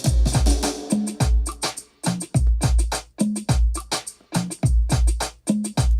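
A drum groove soaked in reverb plays through the whole beat, steady punchy kicks and snares repeating loudly in a looping pattern, with no talking over it.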